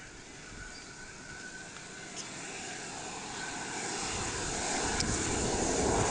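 Scale model jet aircraft such as a Skyhawk or Vampire flying overhead, a steady broad jet roar that slowly grows louder across the whole stretch, with no voices.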